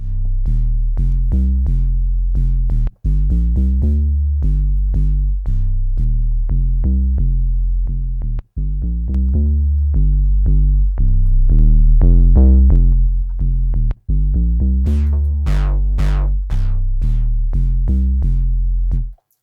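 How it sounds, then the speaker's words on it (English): Bass line programmed on a Polyend Tracker Mini with beat depth and overdrive applied, a loud punchy series of low, evenly rhythmic notes with short breaks between patterns, playing alone without speech. "So this is my bass."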